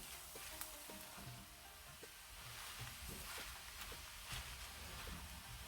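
Spinach sizzles and fries in a pan for a spinach and cheese quiche, a faint, steady hiss broken by soft stirring clinks and scrapes.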